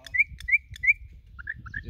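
A caged troupial (corrupião) sings close by, giving a run of three loud, clear whistled notes followed by a quicker series of shorter, chirpy whistles, over faint low background noise.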